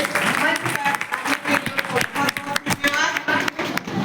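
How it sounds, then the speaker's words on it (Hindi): Applause from an audience welcoming an arriving guest at a Hindi-speaking political event on One Nation, One Election, a dense run of claps at moderate level with sharp individual hits standing out. "जोरदार तालियों से"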